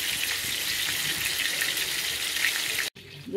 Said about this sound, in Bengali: দেখুন, আমি ভাজছি ইলিশ মাছটা,